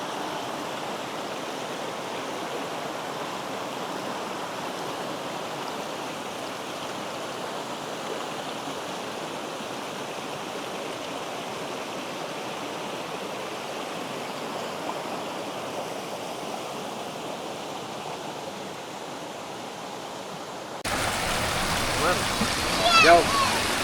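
Cold water of the Mudung Khola mountain stream in North Bengal rushes in a steady, broad roar that stays constant and fairly loud throughout, growing nearer and louder in the last few seconds.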